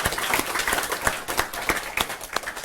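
Brief applause from an audience at the end of an academic talk, a scattering of distinct claps rather than a dense ovation, moderately loud and heard alone without talk.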